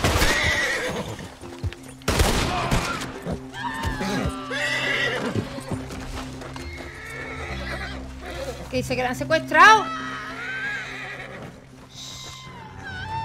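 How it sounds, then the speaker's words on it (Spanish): A horse in the video game Red Dead Redemption 2 gives several loud whinnies and neighs over clip-clopping hooves and game music. Someone speaks in Spanish over part of it. "Caballo, caballo."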